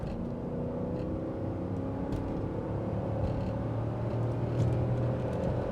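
A 1997 Ford Taurus SHO engine hums and rumbles steadily from inside the cabin, swelling slightly as it pulls forward under moderate load up an on-ramp.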